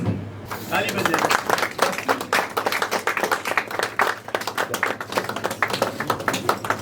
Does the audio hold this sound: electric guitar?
no